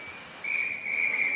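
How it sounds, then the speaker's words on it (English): A referee's whistle shrills at a youth hockey game, one sustained blast that grows louder partway through and holds steady, over faint rink background noise. "we get a whistle"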